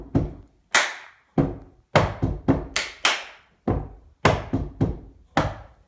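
Sharp, close hand claps mixed with deep thumps from a djembe hand drum, struck one by one in an uneven rhythm with clear gaps between hits and no talk over them.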